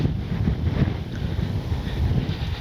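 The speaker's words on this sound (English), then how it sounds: "Yeah, it's windy. It's very windy." Strong gusty wind buffets the microphone at an outdoor RC plane flying field, a loud low rumbling roar that swells and dips continuously with no voices.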